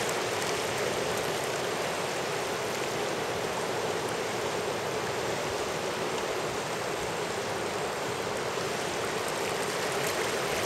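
Rapidly flowing river water at Naptown Rapid, a loud continuous rushing roar of churning water with waves, steady and close throughout.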